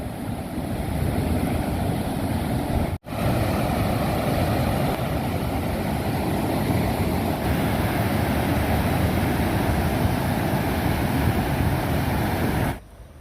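Floodwater of the Nira river, swollen by its first flood of the year, rushes past nearby farm fields in a loud, continuous roar. There is one brief dropout early on.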